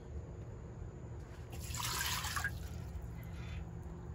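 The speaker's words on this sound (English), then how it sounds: "Now let's add 1 cup of water." Water pours briefly into an Instant Pot pressure cooker, a soft splashing trickle lasting about a second over a quiet background hum.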